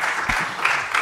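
Brief burst of audience applause at the close of a panel session on Bitcoin and victims of the banking system, a close, broadband patter of clapping lasting about a second.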